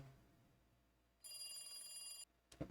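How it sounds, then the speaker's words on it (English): A telephone rings in the video game Higurashi no Naku Koro ni, one sustained electronic trill of about a second against a quiet background, followed by a short clattering sound. "You have a phone call."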